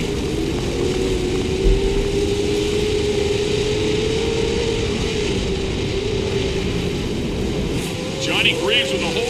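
Pro 4 off-road race trucks at Crandon pull away from a green-flag start at Potawatomi turn one, a dense, steady engine roar holding throughout, with a race commentator talking over it.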